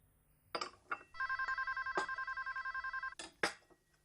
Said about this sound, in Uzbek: Endi ovqatlanaman desam nuqul telefon jiringlaydi